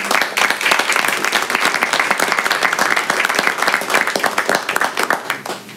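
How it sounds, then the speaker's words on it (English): Audience at a county commissioners meeting breaks into loud, dense applause close by, many hands clapping continuously for several seconds before thinning slightly at the end. "Deserves a round of applause."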